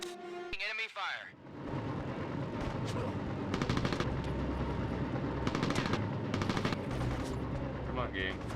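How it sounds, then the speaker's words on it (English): Sustained bursts of automatic enemy gunfire in the PS2 game Mercenaries, rattling densely through most of the stretch with brief louder volleys, following a short spoken line at the start. "Enemy fire."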